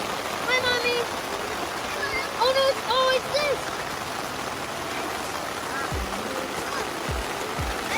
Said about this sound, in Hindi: लेकिन फिर बारिश शुरू हो गई।